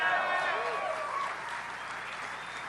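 Crowd applause at a political rally in New York City, a broad, sustained clapping that is loudest at the start and gradually eases, with faint cheering and voices underneath.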